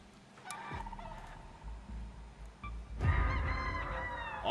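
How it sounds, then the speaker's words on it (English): A chicken in a video game gives a few short clucking calls over a steady bed of game background noise, with a louder burst of calls near the end. "I hear the chicken too, that's funny."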